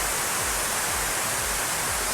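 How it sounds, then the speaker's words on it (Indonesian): Water falls steadily in an indoor fountain inside a quiet luxury mall in Houston, a dense, even rushing hiss that runs unbroken and fairly loud, with no voices. "kalau di dalam sini dengar suara gemericik dari air yang turun"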